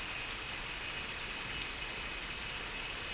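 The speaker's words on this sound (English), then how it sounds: "A kettle whistled merrily from a hook over the blaze." A kettle hangs on a hook over a crackling fire in a stone porch hearth and gives one steady, high, piercing whistle that holds unbroken the whole time over a soft hiss, with no talking.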